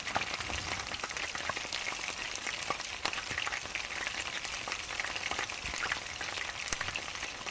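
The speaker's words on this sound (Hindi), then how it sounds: "इसी तरीके से मैं अपने सारे पीसेस ऐड करके और इसे फ्राई कर लूँगी अच्छे से" Chicken pieces sizzle and crackle in hot oil in a pan over a medium flame, a dense, continuous spattering hiss with frequent sharper pops, close and fairly loud.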